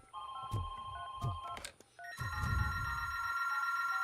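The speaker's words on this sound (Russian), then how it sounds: "это звонок где-то под землей" Telephone ringing underground in the RoboCop: Rogue City game, repeated electronic ring tones with a few thuds at first, then a sustained trilling ring that continues steadily at moderate level.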